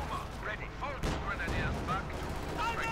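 Puma armored car firing in Company of Heroes 2 real-time strategy game, a sharp cannon shot among battle noise and gunfire, with a commentator talking throughout.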